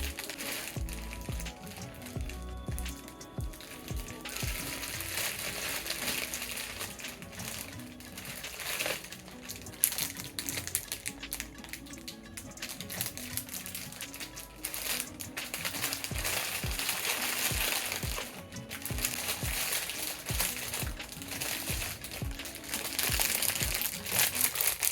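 Plastic packaging around a water bottle set is crinkled and torn open, giving steady close crackling and crunching that runs throughout, with occasional sharper rustles.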